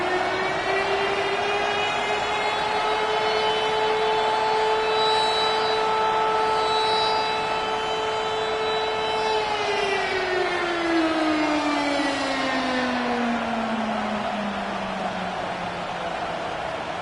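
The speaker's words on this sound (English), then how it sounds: "their signature Big Red Siren, which signals an air raid" Arizona Cardinals' Big Red Siren at State Farm Stadium in Glendale, a loud air-raid siren wail holding a steady pitch for several seconds, then winding down and falling in pitch as it fades.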